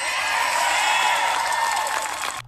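Crowd at a political rally cheering, a dense wash of shouts, whoops and applause held loud for a couple of seconds before cutting off sharply.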